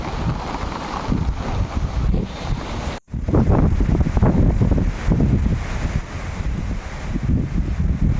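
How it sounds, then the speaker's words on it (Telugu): Strong wind roars and buffets the microphone in gusts, tugging at a tarpaulin covering a tobacco crop, a loud rushing blast with a brief cutout, no voices present. "గాలి అయితే అసలు ఉంచట్లేదు బరకాన్ని."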